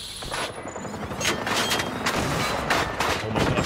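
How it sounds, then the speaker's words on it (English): Heavy gunfire from a big hostile robot fills a Generation Zero fight. Rapid, loud bursts and booms repeat almost without pause, close and dense. "Big guy shooting."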